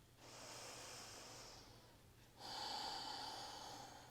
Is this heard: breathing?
yes